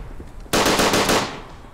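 A gun fires in the First World War shooter Verdun, a single sharp, loud burst that snaps in abruptly and then trails off over about a second.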